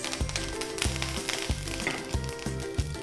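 Ghee sizzles as dry red chillies, asafoetida, mustard seeds, cumin and curry leaves hit the pan for a tomato dal tadka, a soft, steady frying hiss under a rhythmic thumping background beat.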